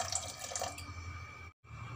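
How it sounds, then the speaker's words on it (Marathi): Water is poured into a pressure cooker holding drumstick pods, washed moong dal, cumin and turmeric, making a soft, steady splashing that stops briefly near the end. "आता टाकायचं पाणी यामध्ये"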